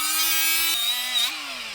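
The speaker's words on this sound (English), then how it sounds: "You take a die grinder to it and just..." A die grinder works on a Honda wheel stud, giving a loud, close, high-pitched whine that shifts pitch as the tool bites into the soft metal, with no talk.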